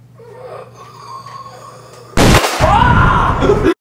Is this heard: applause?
no